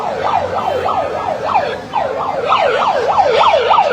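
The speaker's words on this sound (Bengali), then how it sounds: "সাইরেন বাজিও পাবলিককে সরানো যাচ্ছে না।" An emergency vehicle siren wails in a steady, repeating rise-and-fall, loud and close, over the dense murmur of a crowd at Hazrat Shahjalal International Airport in Dhaka.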